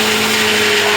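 A mixer grinder whirs loudly and steadily as it grinds a thick masala of coconut, onion, cumin and fennel without water, a continuous close motor roar with no voices.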